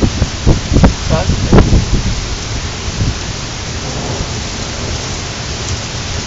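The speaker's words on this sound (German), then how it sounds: "Schwerstes Unwetter, Leute." A severe thunderstorm over Düsseldorf/Mettmann brings heavy, continuous rain with rumbling thunder; excited voices shout briefly early on before the downpour roars on alone.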